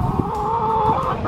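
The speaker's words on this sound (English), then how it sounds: "She is a Polish hen." A Polish hen making a drawn-out, wavering cluck close up, one continuous tonal call over faint background noise, no talking.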